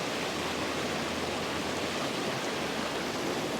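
Waterfall on the Claddau River, a steady dense rush of falling water roaring evenly and close, with no voices.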